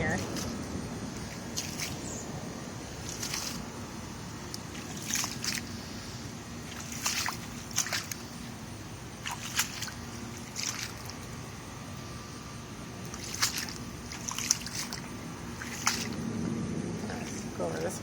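Footsteps slosh through deep rainwater pooled in a vegetable garden among tomato plants, rhythmic splashing strides repeating every second or so, near and moderate, with someone talking over them.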